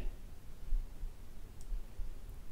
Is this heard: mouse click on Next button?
yes